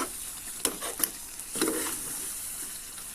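Fresh garlic sizzles steadily in hot oil with potatoes while a spoon stirs and scrapes the pan a few times, the frying hiss continuous and close.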